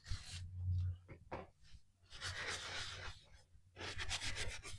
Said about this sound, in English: so I'm going to go ahead and sand it